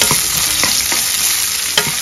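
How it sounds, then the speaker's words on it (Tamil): Onions sizzle steadily in a hot pan, with a few soft scraping stirs of a spatula cutting through the continuous frying hiss. "வெங்காயம் நல்லா கலர் சேஞ்ச் ஆகட்டும் அந்த அளவுக்கு வதக்கிக்கங்க"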